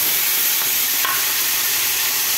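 Garlic paste frying in hot oil with cumin and bay leaf for a Bangladeshi rui fish curry, a steady, bright, close hiss that fills the whole clip without a break, with a faint scrape of stirring partway through.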